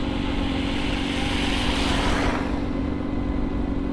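A motorcycle engine revs while riding through snow, a constant buzzing drone that swells to a peak and then eases off, loud and close.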